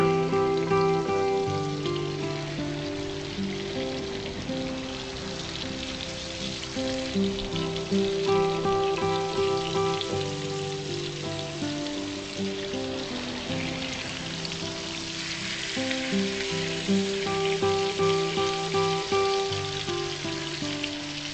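Swordfish sizzles in butter in a pan, a steady crackling fry lasting the whole stretch at moderate volume, layered with a faint tonal hum in the background and no talking.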